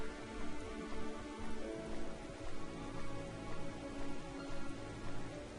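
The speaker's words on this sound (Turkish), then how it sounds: "Yine yağmur yağıyor." Rain falls steadily, a dense, even hiss of drops with gentle pulses in intensity and no other sounds standing out.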